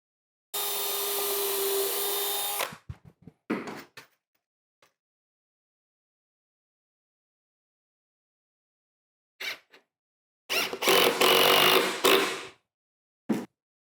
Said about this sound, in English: I'm going to pre-drill and put in some square drive screws to hold the whole thing together.